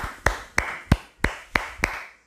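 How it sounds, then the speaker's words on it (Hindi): A teacher leads a few slow claps for three students during an online UPSC EPFO test-review class, six sharp evenly spaced claps, close and fairly loud, with no talking. "तालियां"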